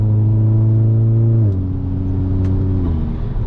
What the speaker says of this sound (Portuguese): Pro pessoal que gosta de escutar o ronco do carro